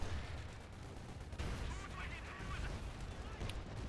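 Battle noise in Company of Heroes 2, with thudding shots and explosions over a dense rumbling background, with an occasional sharp crack.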